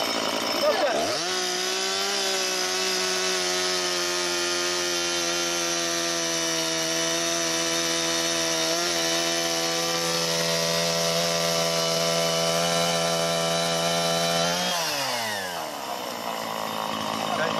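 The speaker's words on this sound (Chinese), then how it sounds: "电锯跟链板错开了" An electric chainsaw cuts wood at a craft workshop with a sustained, loud, high whine for about fourteen seconds, then winds down as the cut ends.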